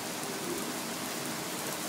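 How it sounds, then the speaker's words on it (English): Heavy rain pours down in a steady, dense hiss of drops hitting surfaces, loud and unbroken throughout with no voices. "Oh my god, that rain is incredible."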